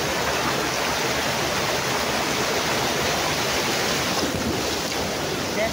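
A waterfall at Gaas Falls gives a loud, continuous roar of rushing water that stays even and unbroken from start to end.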